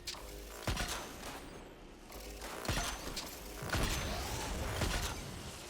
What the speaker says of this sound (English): I'm going to toss a grenade over there